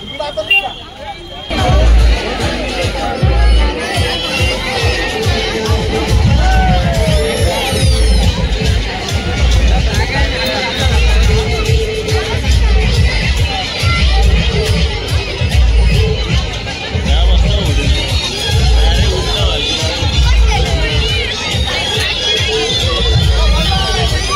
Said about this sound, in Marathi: फुल गर्दी. आता आम्ही पोहोचत जत्रेमध्ये. फुल गर्दी.